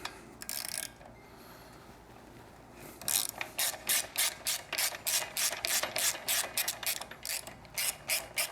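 Rapid ratchet clicking in repeated bursts as a wrench backs out the 6mm and 12mm bolts of a passenger peg on a liquid-cooled 2016-up Triumph motorcycle, close and crisp, after a brief earlier burst and a quiet pause.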